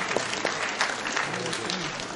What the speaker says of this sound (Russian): Кумис Базарбаева, ваши бурные аплодисменты.